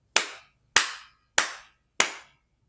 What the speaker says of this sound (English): Just going to do 4 claps.